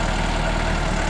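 A NorTrac 35XT compact tractor idles steadily in a muddy spot, its low diesel engine rumble pulsing in a close, continuous drone with no voices.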